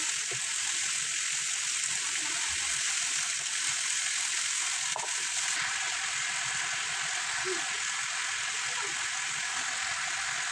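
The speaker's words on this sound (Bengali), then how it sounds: "এখন আমি সিমগুলো দিয়ে দেবো সিম দেওয়ার পরে নিয়েছি একটু হালকা কিছুক্ষণ ভেজে নেব" Broad beans and mixed winter vegetables fry in a pan, giving a steady, fairly quiet hiss and sizzle that runs unbroken throughout, with a few faint clicks and no voices.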